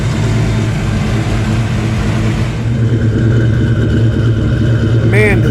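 A car engine on E85 ethanol barks and revs through a custom old-school 90s-style exhaust, a loud, steady, close-up drone that holds throughout with a slight change in tone partway through.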